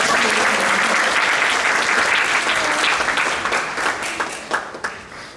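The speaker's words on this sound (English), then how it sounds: "Let's clap for Soham's dad." An audience at a Chinmaya Mission summer camp gathering claps loudly and steadily, then the applause thins into scattered, fading claps near the end.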